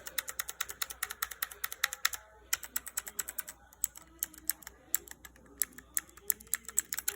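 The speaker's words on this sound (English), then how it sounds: "I kind of do prefer the sound of the ABS keycaps" Steady Cherry MX Blue mechanical keyboard typing with OEM-profile ABS keycaps, a dense stream of crisp clicky keystrokes with a brief pause partway through, close up and without speech.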